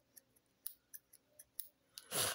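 Small curved, pointed embroidery scissors are handled up close, giving a series of light, sharp metallic clicks and snips at a quiet level, followed by a louder brushing rustle at the end.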